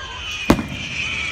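One sharp Fourth of July firework bang cracks out over a steady hiss of background noise, followed by a faint crackling tail.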